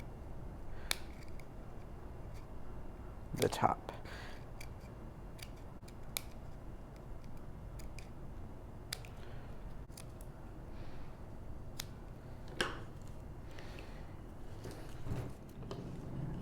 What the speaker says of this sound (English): you can take your fine tip scissors and just cut around